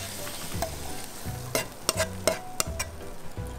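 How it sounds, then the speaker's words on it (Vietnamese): Meat and onion stir-frying in a pan, a steady sizzle broken by repeated scrapes and clacks of a utensil stirring at close range. "Đầu tiên thì mình sẽ xào thịt trên chảo với củ hành tây"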